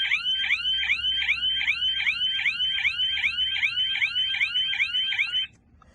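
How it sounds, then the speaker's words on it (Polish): An Audi A7 anti-theft alarm siren wails in a fast repeating rising chirp pattern, loud and steady, cutting off abruptly near the end. "Usłyszymy sygnał syreny."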